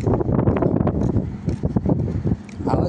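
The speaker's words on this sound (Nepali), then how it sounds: "हावा ज्यादा छ कि हावा ज्यादा छ" Strong wind buffets the microphone in loud, uneven gusts and rumbles outdoors, with rustling throughout and brief dips between blasts.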